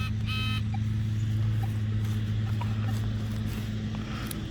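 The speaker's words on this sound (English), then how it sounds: "I'm sorry about that noisy lawnmower too." Steady droning engine hum of a lawnmower cutting grass close by, continuous and fairly loud for the whole stretch with no talk.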